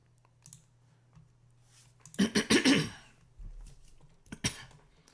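Several sharp coughs in a quick burst from a person who drank tea shortly before, close to the mic, loud against a quiet room with faint clicking and a couple of later throat-clearing sounds.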